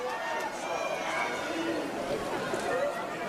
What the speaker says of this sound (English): We can hear a lot of support in the crowd for that decisive swim that she just put down.